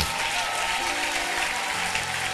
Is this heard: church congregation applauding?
yes